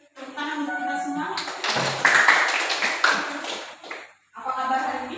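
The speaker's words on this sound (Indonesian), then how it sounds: "Tepuk tangan untuk kita semua." Clapping from a classroom group at the start of a lesson, a burst of hand claps rising in the middle and fading out, framed by a teacher's talk at the start and end.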